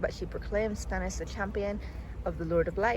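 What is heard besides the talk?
No everyday noise stands out behind the speech.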